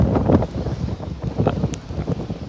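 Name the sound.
wind blowing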